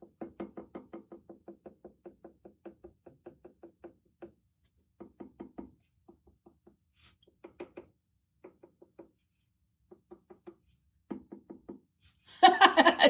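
Fingers tapping on a hard, leather-dry clay pot on a potter's wheel while centering it for trimming: rapid runs of sharp, hollow knocks in bursts and pauses, closing with a louder scraping clatter.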